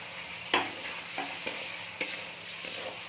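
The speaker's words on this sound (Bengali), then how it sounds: "চিকেনটাকে এখন আমরা একটু খুব ভালো করে কষিয়ে নেব" Chicken and chopped tomato sautéing in a pan for a chicken-and-cabbage curry, a soft continuous sizzle broken by several sharp spatula scrapes and stirs at irregular intervals.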